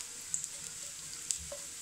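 Coriander powder frying in a pan for shami kababs makes a soft, quiet sizzle with a few sharp little crackles.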